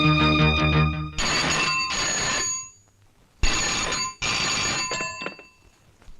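Telephone ringing in an advocate's office, repeated loud electronic bell trills in two-part bursts with short pauses between them, close and clear with no talk.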